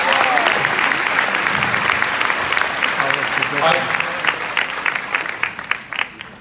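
Audience applause for a guest at a corporate family reunion event, a dense, steady clatter of many hands filling the room, with a few sharper claps standing out as it thins toward the end.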